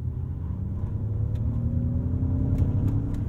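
A 2022 Ford F-150 Lightning electric pickup accelerates hard toward 60 mph in sport mode on a rough road, a rising whir and road rumble swelling steadily with brief tire noise, no talking.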